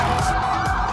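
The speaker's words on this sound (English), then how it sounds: "the entire area started to fill with sirens, emergency vehicles, and people rushing through the streets." A loud wailing siren fills the brief moment, with traffic rumbling underneath, as emergency vehicles rush through the streets of Intramuros, Manila.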